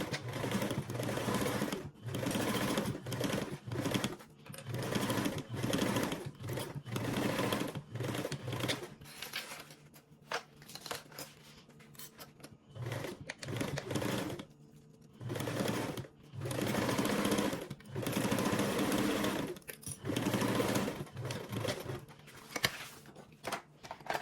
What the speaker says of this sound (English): we are going to go ahead and sew with a 1/4 seam allowance